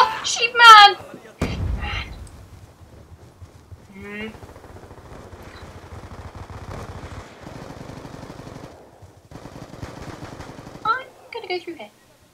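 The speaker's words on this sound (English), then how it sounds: "Someone be shooting!" Automatic gunfire bursts from a Black Ops 2 team deathmatch on the Yemen map rattle in stretches, mixed with game sound effects and excited players talking over it.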